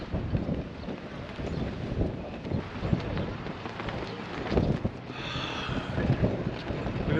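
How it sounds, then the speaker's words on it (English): Strong wind at Sweetwater Station, Wyoming buffets the microphone in a constant gusty roar with uneven surges. "Let me show you what the wind looks like here."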